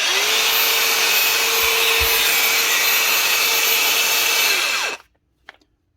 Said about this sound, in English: That's the DGA 458 brushless Makita grinder.